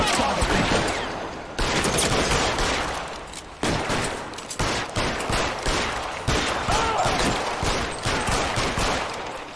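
Dense gunfire in the video game L.A. Noire, a steady fusillade of loud shots overlapping one another with hardly a break, close and continuous throughout.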